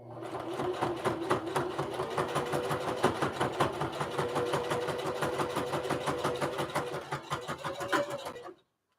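Sewing machine stitching fabric for a lunch tote, a steady rapid mechanical whirring and clatter running close and continuous for about eight seconds before stopping abruptly.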